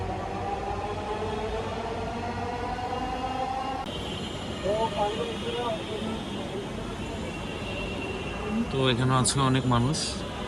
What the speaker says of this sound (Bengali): এটা হচ্ছে মিরপুর এগারো এর মেট্রো স্টেশন থেকে এখান থেকে হচ্ছে মেট্রো ছেড়ে যাচ্ছে